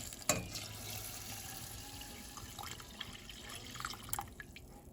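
Water trickling and dripping into a saucepan close by, a little over a quart, a thin steady stream with a few splashy drips.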